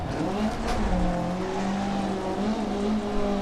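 A rear-wheel-drive rally car in DiRT Rally 2.0 slides with its back end stepping out, the engine holding a steady droning note as the tires skid on the stage surface.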